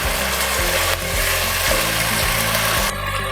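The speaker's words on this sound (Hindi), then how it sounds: "मैं इसमें चिकन ऐड कर दूँगी। इसको अच्छी तरह फ्राई करेंगे" Chicken for fried rice sizzles and fries steadily in a pan, a loud, close crackling hiss with a few stirring scrapes and no talking.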